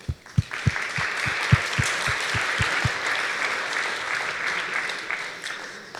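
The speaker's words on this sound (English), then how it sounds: "let's take a moment to give them a round of applause" Middle school athletic awards audience applauding a team, opening with a run of evenly spaced loud thumps before swelling into a full, dense round of clapping that stays strong and then eases off slightly.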